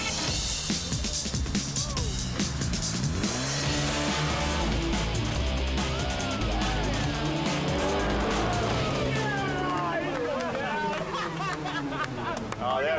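Race cars roar along a track in a car-club racing event, engines loud and continuous with passing sweeps and possible tire squeal, under crowd babble and nearby talk throughout.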